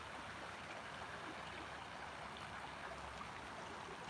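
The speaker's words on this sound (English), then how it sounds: "I do like the sound of running water" Stream water runs in a park, a soft, continuous wash and trickle heard from a short distance, even and unbroken with no voices.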